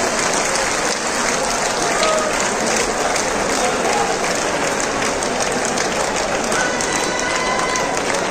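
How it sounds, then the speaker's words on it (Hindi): Crowd applause greets a Haryanvi singer and dancer as she comes on stage at a BJP joining event, a dense, steady wash of clapping that fills the whole stretch with no break. "एक बार जोरदार तालियों से इनका स्वागत कीजिए"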